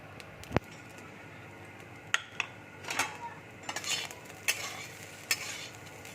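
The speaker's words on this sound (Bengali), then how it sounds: "দেখো ভাতটা ভাজা হয়ে গেছে" Rice fried with a little sugar is stirred in a pan, bringing a run of scraping, clinking utensil strokes against the pan over a low sizzle, close and moderately loud, with no talking.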